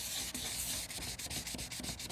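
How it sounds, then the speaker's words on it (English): Hand sanding of a faded plastic car headlight, a steady gritty rubbing in quick repeated back-and-forth strokes, close and fairly loud with no voices. "Again, you are sanding"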